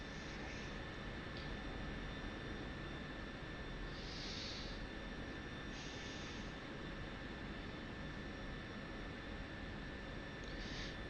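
An F-16C in the DCS flight simulator holds a steady, loud broadband jet engine roar throughout, with a constant high whine on top and a few brief hissing bursts.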